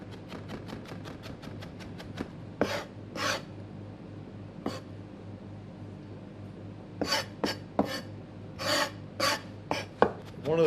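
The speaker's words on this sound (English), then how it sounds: "I'm going to chop that together with the ginger, make it one sort of homogeneous little mix." A knife chops ginger on a cutting board while a chana masala is prepared, starting with a quick run of light rhythmic taps, then scattered louder thuds and scraping strokes in bursts, close up and quiet with no talk.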